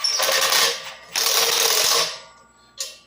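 A ratchet wrench snugging down bolts on the hub of a 24-inch concrete saw blade, with two quick bursts of buzzing clicks close up and a brief third click at the end.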